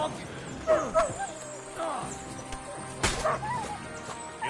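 Dog barks and yips in Kingdom Come: Deliverance 2, several short sharp barks spread over a noisy game scene with a loud crash near the middle and voices talking throughout.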